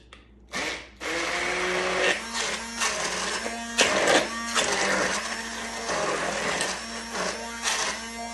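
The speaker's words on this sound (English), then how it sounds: "I'm gonna use my immersion blender, and here we go." A handheld immersion blender whirs loudly in pulses, its motor pitch dipping and surging as it churns through thick eggplant herb sauce, with no one speaking.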